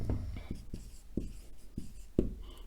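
Marker writing on a board during an accounts lesson, steady squeaky strokes and taps in a loose rhythm, close and moderately quiet with no speech.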